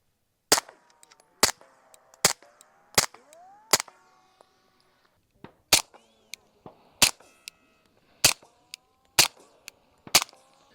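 Suppressed handgun shots firing a larger, slower round than 9mm, ten sharp cracks at irregular intervals of about a second, each followed by a brief ringing tail, loud and close.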